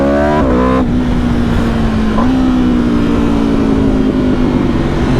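Aprilia RSV4 1100 Factory sport motorcycle, a 2024 model, revving hard on a test ride with loud, steady engine roar, a quick upshift near one second and another gear change around two seconds, the pitch climbing continuously.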